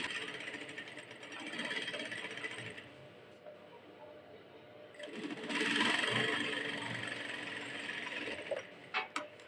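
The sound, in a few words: sewing machine stitching fabric sleeve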